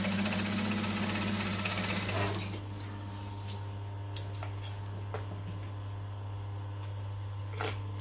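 A sewing machine runs steadily for about two seconds while stitching a bum bag, then stops, leaving a low constant hum with faint clicks and handling noises.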